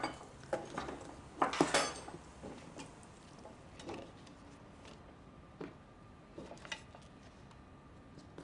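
Juicy vegetable strips go into a pan with a few scattered clinks and light knocks of utensils and cookware, faint and intermittent, with a brief cluster of louder clatter near the start.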